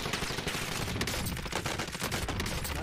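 Dense gunfire in a Warzone firefight: overlapping rapid shots and bursts, loud and continuous across the few seconds, with no voices.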